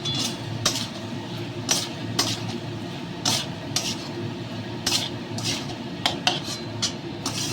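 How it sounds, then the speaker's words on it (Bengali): Snails being stir-fried with chilli powder, garam masala and salt in a pan give repeated sharp scraping clinks of a utensil against metal over a steady low sizzle. "এবার আমি সুন্দর করে কষবো এইগুলোকে"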